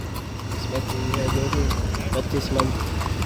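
Hooves of a 25-month-old racehorse of the Marwari line clip-clop in a rhythmic run of clops, with someone talking over them and an engine hum in the background.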